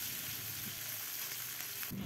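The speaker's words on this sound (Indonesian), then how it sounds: "Langkah selanjutnya kita akan goreng terinya terlebih dahulu." Steady, dense sizzling of anchovies frying in hot oil, continuous and close, with occasional stirring scrapes.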